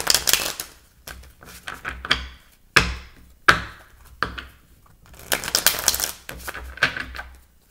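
Crisp, rapid clattering bursts of tarot cards being shuffled, several riffles in sequence with short pauses between, close and fairly loud.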